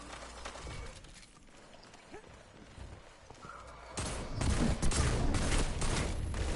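Bursts of rapid gunfire in a multiplayer shooter video game, sparse shots at first, then a loud dense fusillade with explosions from about the midpoint onward, with no voices over it.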